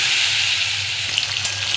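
Steamed potato pieces, seasoned with salt and turmeric, fry in hot oil with a steady, dense sizzle heard close up, crackling a little more sharply toward the end.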